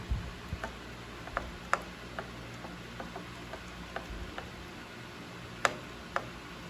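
Small ticking and clicking of a wrench turning an 8 millimeter bolt out of a BMW door during a door handle repair, with faint irregular clicks over a steady low hum.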